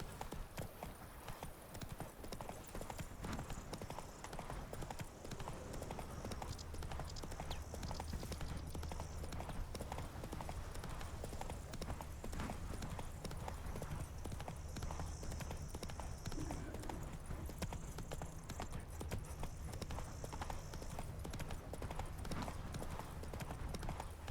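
Roach, the horse in The Witcher 3, trots with a steady, continuous clip-clop of hooves, close and even, with occasional faint talk over the top.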